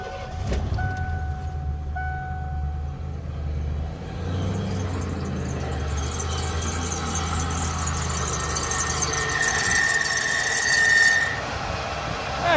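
A 1988 Ford LTD Crown Victoria engine runs at a steady, fairly loud idle close by, a continuous low rumble with a brief rise in pitch near the end, no voices over it.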